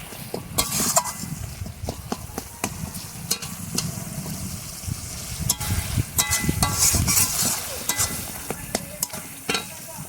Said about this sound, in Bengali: মশলা গা থেকে দেখুন সুন্দর তেল ছাড়ছে